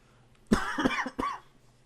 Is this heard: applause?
no